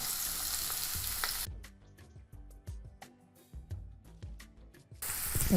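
Onion and tomato hit hot oil in a pan for a wild-flower bhaji, setting off a loud hiss that drops back to crackling and stirring scrapes, then swells again; close by, no voices.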